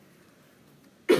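A single sharp cough from a math teacher lands abruptly near the end, loud and close after a stretch of quiet room tone.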